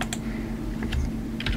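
Typing on a computer keyboard, a quick run of close, light key clicks over a steady low hum, with no talk.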